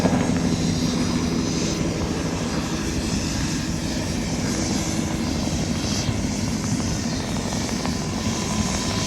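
A tour helicopter flies over the Grand Canyon, its engine and rotor producing a loud, steady, droning roar with a continuous throbbing rumble that stays close throughout.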